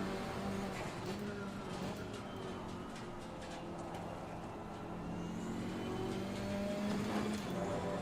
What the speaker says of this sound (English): So there again, bouncing off the limiter.